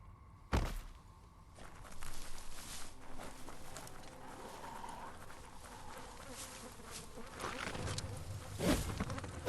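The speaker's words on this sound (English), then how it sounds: "the moths should cause a buzzing tumult" A swarm of moths buzzing in the video game Biomutant, a faint insect-like drone under thuds and shifting game noise, with sharp louder impacts near the start and end.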